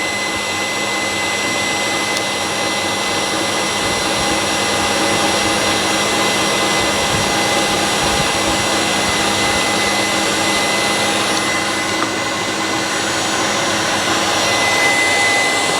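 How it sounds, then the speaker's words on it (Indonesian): Electric hand mixer beating marble cake batter, a loud, close, continuous motor whir holding steady for the whole stretch with no talking. "Ini saya pakai hand mixer"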